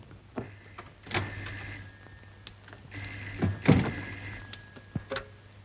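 An old telephone bell rings loud and near in two bursts, with rattling rings separated by a pause and a thump or two in the room.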